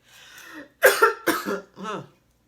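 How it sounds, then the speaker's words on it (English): Several loud, close coughs in quick succession, harsh bursts separated by brief pauses, with no talking. "at the most inopportune times, the coughing craze starts"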